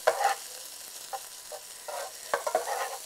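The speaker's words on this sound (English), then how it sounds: "All I'm doing is just sauteing them in my skillet." Broccoli and carrots sauteing in a skillet give a soft, close sizzle with short bursts of stirring and scraping, heard on their own with no talking.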